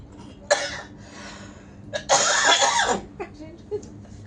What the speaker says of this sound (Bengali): তার কাশি হয়ে গেছে